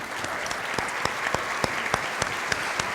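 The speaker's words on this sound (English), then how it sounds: "Give her a round of applause." Audience applause in a pageant hall with house lights up, a steady bed of clapping with sharper individual claps popping out at a regular pace, sustained throughout.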